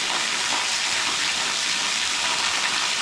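Kinlock and Parker Falls pour and splash in a loud, constant broadband roar of water heard up close, unbroken throughout.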